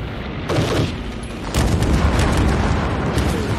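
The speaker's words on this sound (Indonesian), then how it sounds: "tentara Serbia yang hendak menembaki Chris menginjak ranjau itu, memicu ranjau lainnya meledak." Heavy booming landmine blasts erupt in succession, one mine setting off the others, loud and rumbling, followed by sustained crackling roar.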